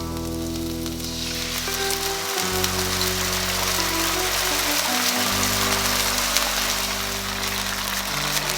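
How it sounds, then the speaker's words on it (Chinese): Prepared sauce hits a hot wok over shredded scallion and ginger while cooking Guo Bao Rou, a crispy fried pork dish, giving a loud, steady, dense sizzle throughout with background music underneath. "接下来下入我们提前准备好的料汁儿。"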